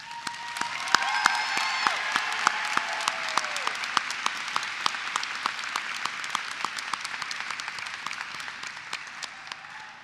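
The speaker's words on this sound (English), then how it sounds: "invite everyone to give our nursing soon-to-be graduates who now pinned nursing students a round of applause" Warm applause from a crowd at a university nursing pinning ceremony for newly pinned nursing students, dense clapping that starts strong and tapers gradually over about ten seconds.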